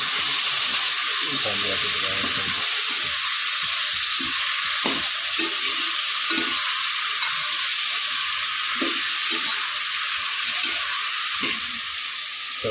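Cooked field beans fry in a pan for biryani, a loud continuous sizzle and steamy hiss with intermittent stirring scrapes and thumps.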